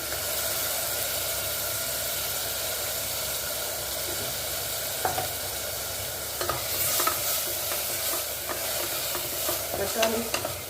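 Chopped onions sauté in a pan with a continuous soft sizzle and hiss. Stirring scrapes and clinks come through now and then. Nobody speaks.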